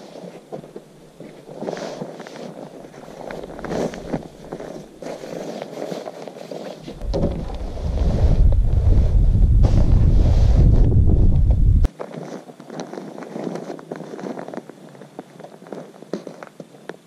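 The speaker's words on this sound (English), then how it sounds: "And I'll undo this valve. So that deflates quickly." Air rushes out of the open valve of a NEMO Cosmo insulated sleeping pad in a loud, steady hiss lasting about five seconds, close to the microphone, then stops abruptly.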